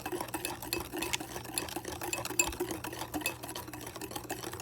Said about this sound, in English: we're going to just keep stirring the egg yolk